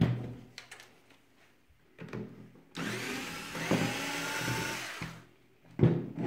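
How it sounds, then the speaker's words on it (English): A power screwdriver backs four screws out of the rear of an 18R2 enclosure, giving a steady mid-volume whirring burst for about two seconds amid light handling clicks and taps. "we're going to remove the four screws out of the back of the 18R2"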